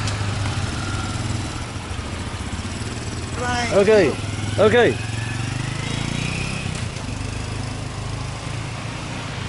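A Honda small motorcycle engine of about 8 or 9 horsepower idles steadily with a smooth low putter, close by, while someone speaks briefly over it.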